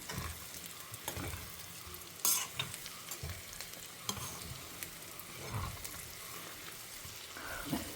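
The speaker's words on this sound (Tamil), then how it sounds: "இப்போ நம்ம பொரிச்சு வச்ச கத்திரிக்காய் இதோடு ஆட் பண்ணி அழகாக ஜென்டிலாக பெரட்டி விடணும்" Fried brinjal pieces gently stirred into a spicy curry in a pan, soft scraping and sloshing with a quiet sizzle, intermittent stirring strokes, close and low in level.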